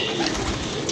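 Pet pigeons cooing indoors, a brief close burst of soft, throaty bird calls lasting under a second.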